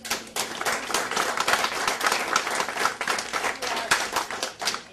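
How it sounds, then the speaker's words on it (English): An audience at a poetry event claps steadily, a dense, even patter of many hands that holds at the same level throughout with no voices over it. "Can we just give him another round of applause?"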